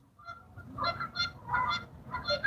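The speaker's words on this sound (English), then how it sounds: "love the geese. Yeah, they can get a little loud sometimes, though, folks." Geese honking loudly in a rapid, overlapping series of calls over a steady low background rumble, heard outdoors during a fishing outing.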